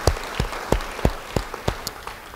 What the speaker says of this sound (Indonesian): Beri tepuk tangan pada Tuhan.